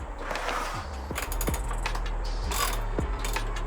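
A 10 mm ratchet working on the mass airflow attachment of a Nissan 350Z: quick, close clicking bursts of the pawl in short repeated strokes over a low background hum.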